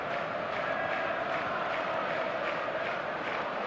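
Stadium crowd noise fills a video game football match: a steady, distant roar with faint swelling chants, staying quiet and even throughout.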